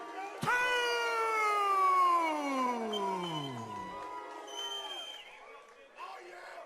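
Crowd at a Nashville Underground MMA event calling out fighter Kue Htoo's name as a long, loud drawn-out "Koo" that falls in pitch over a few seconds, followed by lingering crowd noise.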